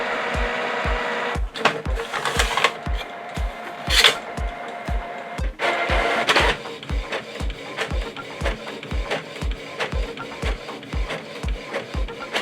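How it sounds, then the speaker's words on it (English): A Canon PIXMA TS7440 inkjet printer running a print job, its mechanism thumping in a steady rapid rhythm of regular pulses, with louder whirring bursts of paper feed and carriage travel in between, close and clear. "The PIXMA TS7440 series LED bar indicates that there is a print job going"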